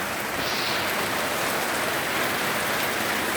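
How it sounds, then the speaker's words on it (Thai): Heavy rain pours down in a garden with kaffir lime trees, a dense, constant hiss of drops hitting leaves and ground, loud and steady with no voices. "ฝนตกหนักค่ะเพื่อน"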